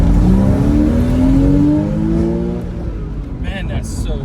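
A 2002 Porsche Boxster with a 2.7 liter flat-six engine and five-speed manual accelerates on a highway, its engine note rising steadily in pitch under loud road and wind noise, close inside the car.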